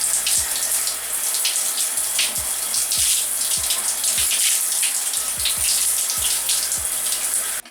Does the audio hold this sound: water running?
yes